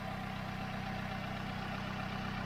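A used British auction car idles smoothly with a steady, even low hum and faint mechanical whir, unbroken and close by, with no voices.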